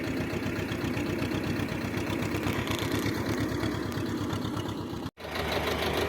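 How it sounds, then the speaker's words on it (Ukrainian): A small motor idles quietly and evenly in a steady, continuous run with a fine rhythmic pulse, close by, broken by a single brief dropout near the end. "Моторчик шепче дуже гарно, тихенько їде, не сапонить, не димить."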